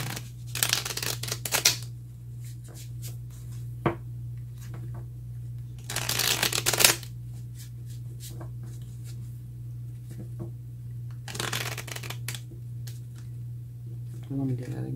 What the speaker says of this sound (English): let's go ahead and get a clarifying card for the Panther Spirit.